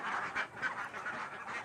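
Vaccinated laying ducks kept for eggs quack in a rhythmic series of nasal calls, close and fairly loud, with no talk over them.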